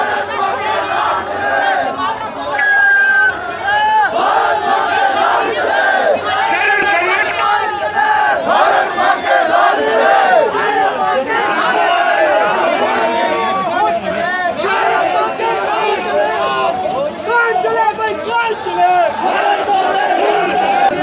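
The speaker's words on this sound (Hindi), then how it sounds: "आज मंच सदस्यों ने सचिवालय मार्च किया और धरना प्रदर्शन किया।" A large protest crowd marching on the Himachal secretariat in Shimla chants and shouts slogans together, a loud continuous roar of many voices with rising calls and responses, close and sustained.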